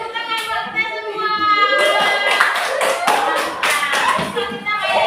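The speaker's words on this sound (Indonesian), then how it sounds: "Tepuk tangan buat kita semua." Children clap along during a coding class mirror game, a few close, uneven bursts of hand claps mixed with lively young voices talking and calling out over them.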